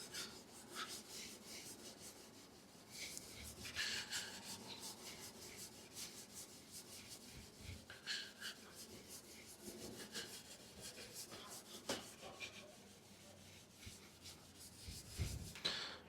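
Wire wool scrubs back and forth over the chrome bumper of a classic car, a steady close raspy rubbing with a few sharper scratchy strokes.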